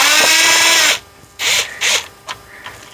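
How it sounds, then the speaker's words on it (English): Power driver spinning screws out of a truck instrument cluster, one sustained whir followed by three short bursts, close and loud. "So start taking screws out and see where it gets us."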